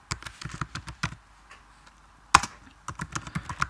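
Typing on a computer keyboard while entering C++ code in Xcode, with quick bursts of close key clicks, a short pause, then a sharp louder keystroke and more rapid typing.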